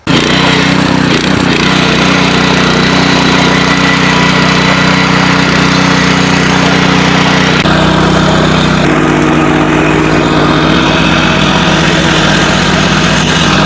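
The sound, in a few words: Bull 800 series power weeder with 8 HP engine running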